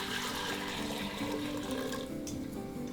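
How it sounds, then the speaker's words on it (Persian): Meat broth for Isfahani biryan is poured back into its dish, a steady close splashing and trickling of liquid running throughout. "این آبگوشت رو برمیگردونم تو ظرفی"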